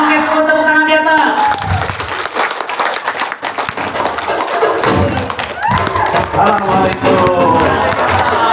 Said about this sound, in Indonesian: semua tepuk tangan di atas